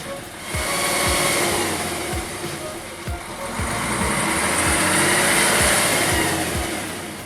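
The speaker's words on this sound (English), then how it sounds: "The engine roared under the cheers of the crowd" A Praga V3S truck's straight-six diesel engine roars steadily and loudly while thrashing in a deep swamp, its revs swelling and easing across the whole stretch, with a crowd cheering and voices blending into the din.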